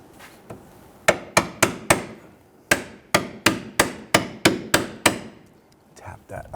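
A rear forward lower control arm on a 2006-2012 Toyota RAV4 is tapped into place with a hammer: about a dozen sharp, close metallic strikes in quick, fairly even bursts, with no talk.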